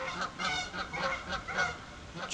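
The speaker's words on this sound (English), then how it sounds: "These geese are going crazy over here right now." A flock of geese honking loudly and continuously, overlapping calls crowding together close by with no pauses.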